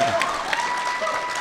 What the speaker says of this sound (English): By round of applause, Stallone